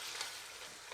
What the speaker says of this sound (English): it's basically cooking the curry now until the onions break down and give you that really thick masala sauce